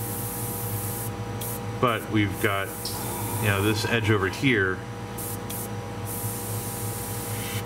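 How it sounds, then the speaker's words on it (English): An airbrush hisses steadily, close and continuous, spraying camouflage paint onto a scale Su-35 model, while someone talks over the spray partway through. "you kind of want to come in, you know, over so that you're spraying in to cut down on overspray"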